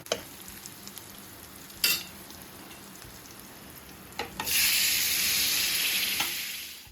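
Cabbage, tomato and green chili frying in a pan: a steady low sizzle with a few utensil clinks, then a louder burst of hissing as the vegetables hit the hot oil, close and without talk.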